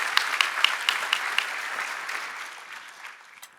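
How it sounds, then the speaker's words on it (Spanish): A church audience breaks into applause, a few sharp claps standing out at first before the clapping thins and fades over a few seconds. "Dale un aplauso a ese Espíritu de Dios que es el que tiene poder"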